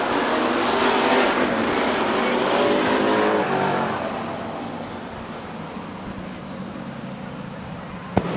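Race cars roar around the Stockton 99 Speedway oval in 1999, a loud, continuous engine drone that eases to a lower, steadier rumble partway through, with a brief sharp knock near the end.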